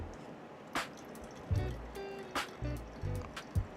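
Water poured into a V60 coffee dripper for iced coffee, soft intermittent trickles and drips with a few gentle bumps, close and moderately quiet, no speech.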